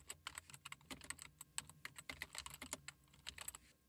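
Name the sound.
typing a website URL on a computer keyboard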